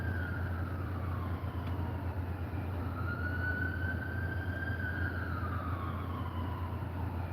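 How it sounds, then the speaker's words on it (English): An ambulance siren wails as it passes on a street during a walk, its rising and falling tone sweeping clearly over steady traffic rumble, loud at first then drawing away. "Oh, I hear the sirens."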